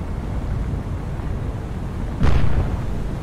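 Small naval guns aboard a warship fire during a sea battle in War on the Sea, heard as a single sharp blast rising out of steady low wind and engine rumble near the end.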